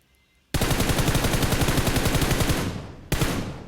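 Rapid automatic gunfire from the PUBG Mobile video game on the Miramar map, a loud, close, sustained burst of shots that breaks off briefly and then resumes.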